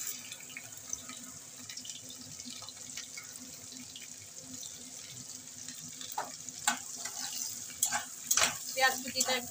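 Chopped onion frying in oil for dhaba-style karahi chicken, a constant hiss of sizzling with scattered stirring scrapes that get louder and more frequent toward the end.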